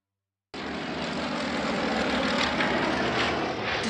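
An airplane drones steadily overhead in a radio play, a broad engine roar that starts abruptly after a short silence and holds loud and even for several seconds, with no voices.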